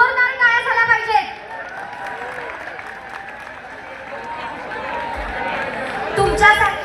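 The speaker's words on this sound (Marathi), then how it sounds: "आपल्या साहेबांसाठी जोरदार टाळ्या झाल्या पाहिजेत" Crowd at an outdoor public event in the CIDCO area of Aurangabad bursts into applause and cheering for a politician, with a dense steady wash of clapping and a murmur of voices under a stage voice at the start.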